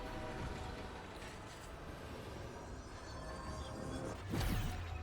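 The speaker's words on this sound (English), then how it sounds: "Great. More trains." Trains rumble past in the Destiny 2: The Edge of Fate video game: a steady, dense rolling roar with no voices, swelling into a louder, brighter burst near the end.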